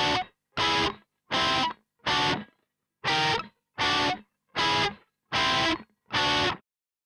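Distorted electric guitar playing the bridge riff of a song: nine short, punchy chord stabs in an even rhythm, split into a group of four and a group of five with a pause between, loud and alone.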